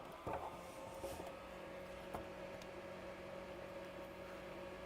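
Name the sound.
fume extractor running at a soldering bench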